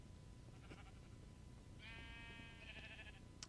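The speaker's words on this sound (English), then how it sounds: "Those sheep are loud." Sheep bleat in the Minecraft modpack Resonant Rise: one drawn-out, wavering bleat over a quiet low hum, faint and alone.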